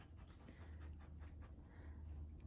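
A dog sniffs heavily up close, its quick, breathy rasps repeating steadily and softly.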